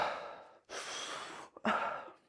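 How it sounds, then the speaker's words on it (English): Two long, audible exhalations in a guided breathing session, close and breathy, separated by a short pause with a faint catch of breath. "breathing in, letting go."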